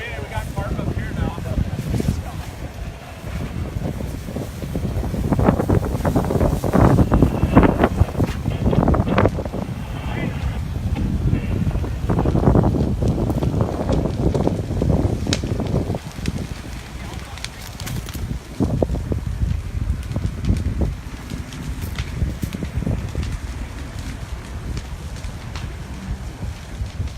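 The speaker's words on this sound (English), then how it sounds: "Just a huge problem with the wind. You can see these embers blowing." Strong gusting wind roars across the microphone amid the Goleta wildfire in Southern California, blowing embers around; a loud, continuous rushing bluster swells and eases over the whole span, with a person talking over it.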